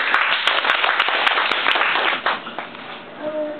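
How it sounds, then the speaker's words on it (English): Applause from a small group, dense clapping that holds steady then tapers off, with a faint voice emerging near the end. "So please give a big applause to him once again"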